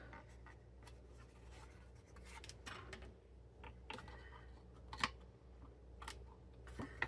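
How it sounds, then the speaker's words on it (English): Scissors cut diagonally across paper for a paper-craft triangle box, making quiet, close snips and rustles in an irregular rhythm with several sharper clicks, with no talk. "I'm going to cut diagonally so that when, see how nicely mitered that is?"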